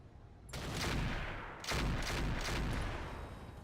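Mech weapons in Roguetech firing a full volley: two loud, close salvos of heavy bursts, the second opening with a sharp crack and roaring on before fading.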